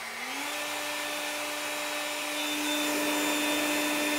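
A Powersmart 40V cordless leaf blower switched to high spins up within half a second into a loud, steady airy roar with a sustained motor whine that holds constant.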